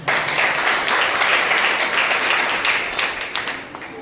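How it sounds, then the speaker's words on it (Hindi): Congregation at a Sunday morning church service breaks into vigorous applause, a continuous full-room patter of clapping that holds steady before easing slightly at the end. "आइए हम सब परमेश्वर के लिए जोरदार तालियां करते हैं"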